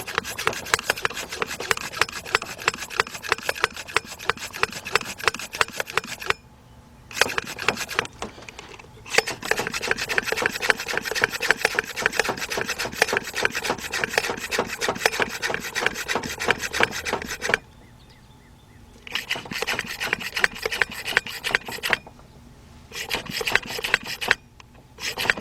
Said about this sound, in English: We're gonna keep pumping this until it gets up to about 15 psi